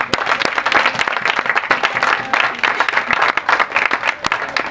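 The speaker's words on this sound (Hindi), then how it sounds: "आज अगर हम जिंदा हैं तो खुदा की हजूरी के लिए जोरदार ताली बजाइए।" A church congregation at a sermon in Okara applauds loudly and continuously, a dense, close wash of many hands clapping with scattered sharper claps.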